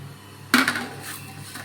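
Mustard seeds and cumin dropped into hot oil in a kadhai give a sudden sharp burst of crackling and popping that quickly fades to a light sizzle, close and alone.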